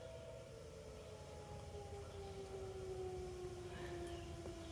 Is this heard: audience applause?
no